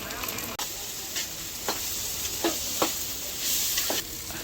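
Turmeric, salt and sugar fry in oil in a home pan for a pilaf, giving a steady close sizzle with several sharp spatula scrapes and stirs spaced through it.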